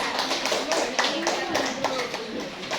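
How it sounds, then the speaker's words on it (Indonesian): A classroom of students claps for a group, quick rhythmic clapping from a modest number of hands, close and fairly loud, with some voices underneath. "Tepuk tangan dulu untuk kelompok 2."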